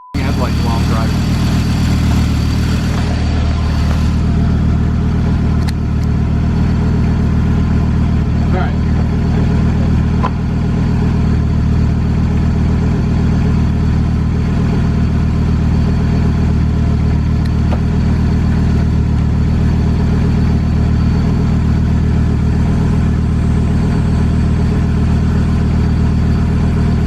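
A 1991 Audi 90 Quattro S2 with a big turbo engine idles steadily and close up, a constant low, slightly rich-sounding rumble that holds even throughout, with a voice talking briefly over it.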